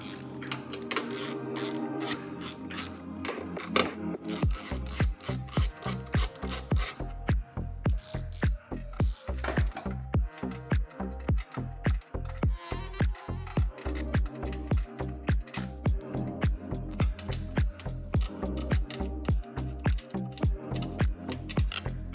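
Two 13mm bolts being loosened on a 2018 Harley-Davidson Street Glide with a ratchet, a close, fast, steady run of rhythmic clicks that continues without pause, with no talking.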